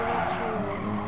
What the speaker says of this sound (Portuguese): Ainda bem que esse carro freia muito, velho.